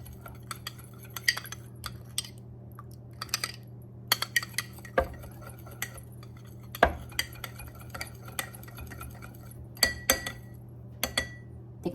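Utensils stir chicken in a sesame marinade, with irregular clinks and scrapes against a dish over a steady low hum, fairly close and moderately quiet, with no talking.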